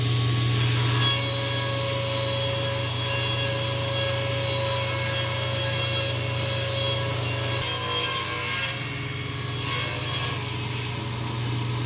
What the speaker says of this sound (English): for making these cuts with a full sheet, I've got the fence on the left side of the blade, and that allows a whole sheet of plywood to be supported